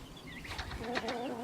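Hens clucking and chattering nearby among young turkeys, a few short bright calls over a steady farmyard murmur.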